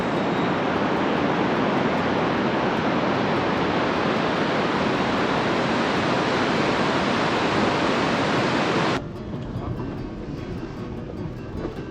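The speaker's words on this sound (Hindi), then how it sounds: "उस मूल से नीचे को ये झरना नीचे गिरता है।" Tingtha waterfall, a very tall cascade, sounds as a loud, continuous roar of falling water. The roar stays dense and unbroken throughout, then drops abruptly to a softer rush near the end.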